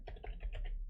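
Computer keyboard keys tapped in a quick, steady run while code is typed, close and clear with no talking.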